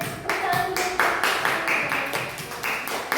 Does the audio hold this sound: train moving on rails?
no